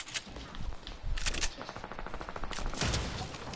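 Bursts of automatic gunfire from a PS4 shooter game, rapid rhythmic shots in several clusters with a dense volley near the middle, loud and close, mixed with scraping game effects.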